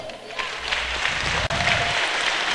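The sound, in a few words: church congregation applauding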